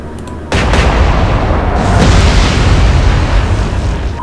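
A naval gun fires in the Atlantic Fleet video game: one loud, sudden boom that rolls into a long, heavy rumble lasting several seconds.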